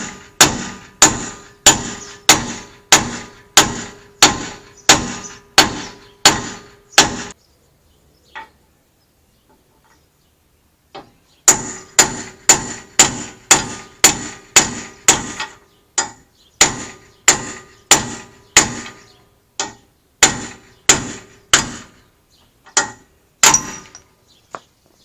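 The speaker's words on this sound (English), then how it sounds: "So we're just going to pound out this lower ball joint here." Steady, loud hammer blows ring out on metal in quick regular bursts, pause briefly, then resume with more rapid strikes, pounding out a lower ball joint on a third-generation Ram truck's front suspension.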